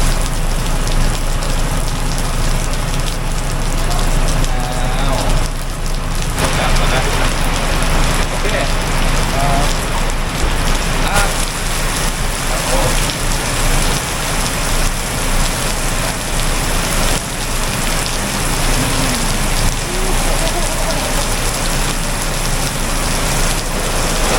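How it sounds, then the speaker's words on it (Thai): Steady rain falls on surfaces at a Buddhist temple site, a continuous broadband hiss with dense patter that stays even and close throughout, with no voices. "ฝนก็เริ่มซาแล้วนะครับผม"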